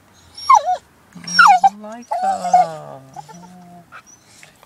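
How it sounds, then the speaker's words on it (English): A sad dog in Kent whimpers and whines in several drawn-out, wavering cries close by, separated by short pauses, with a person speaking briefly alongside. "I'm here with a very sad, sad, sad dog."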